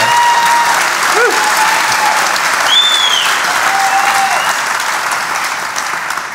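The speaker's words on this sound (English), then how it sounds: "That deserves a round of applause." A live podcast audience at a TT motorcycle racing event gives sustained, loud applause, with brief cheering and whistles rising above the steady clapping, which softens slightly at the end.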